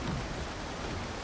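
Steady rain from Valheim falls in a dense, even hiss with no breaks, broadband and constant, with no voices over it.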